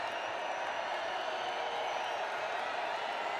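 A football crowd makes noise for Wyoming in a stadium, a distant, steady wash of cheering and murmuring that holds at an even level throughout.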